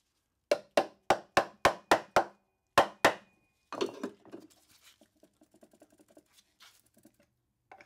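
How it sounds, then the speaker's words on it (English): A run of about nine sharp metallic taps in quick, even succession as a screwdriver is hammered under an Atomic 4 engine's cylinder head, then a short pause and scraping, prying noises with scattered light knocks. "gently hammer the screwdriver in and continue trying to pry up and down"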